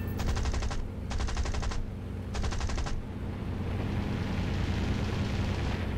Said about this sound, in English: you can hear the other player's guns really, really well